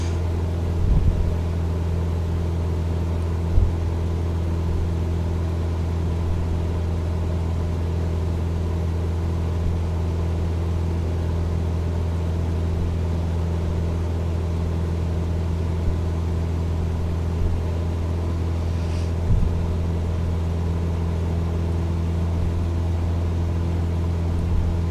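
An aircraft engine drones steadily in Microsoft Flight Simulator 2020, with an even, low, humming rumble at constant power. A few soft clicks break it, and no one speaks.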